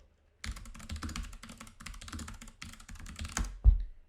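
Steady, fast typing on a computer keyboard, close and clear, with rapid key clicks running for a few seconds before a final heavier keystroke, no voices.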